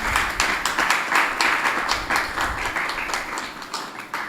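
Loud clapping from an audience at an evening devotional gathering with a Jain monk, a steady burst of many hands that continues throughout with slight swells and a gradual fade toward the end.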